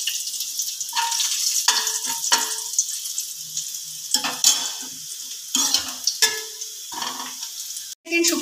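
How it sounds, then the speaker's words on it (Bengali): Dried red chillies fry in hot mustard oil over lowered heat, a close, continuous sizzle punctuated by repeated bursts of stirring and scraping in the pan. "সরষের তেল ভালো করে গরম করে নিয়েছি হাইয়ে দিয়ে। এবার আমি সিমে দিয়ে দিয়েছি। প্রথমে দিচ্ছি শুকনো লঙ্কাটা।"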